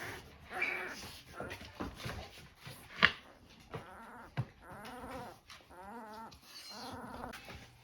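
Nine-day-old puppies from a surprise litter, big for their age, give off a series of soft whimpers and thin whining cries in short bursts, with rustling and shuffling close by.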